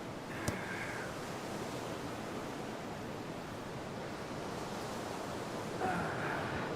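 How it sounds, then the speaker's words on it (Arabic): Sea waves wash onto the Alexandria shore as steady broadband surf hiss with wind, moderately loud and continuous, with faint brief sounds near the start and end. "ادينا على البحر اهو"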